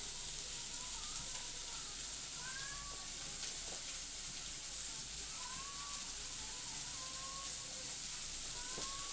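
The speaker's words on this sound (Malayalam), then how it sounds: "കടുക് പൊട്ടിച്ചു" Mustard seeds spluttering in hot coconut oil give a steady close-up sizzle with scattered small pops, frying continuously without a break.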